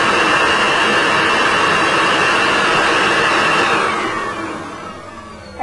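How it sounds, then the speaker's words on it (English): A steady, loud whirring drone of a vacuum cleaner runs continuously, then gradually softens and fades toward the end. "As a comparison, a vacuum cleaner has"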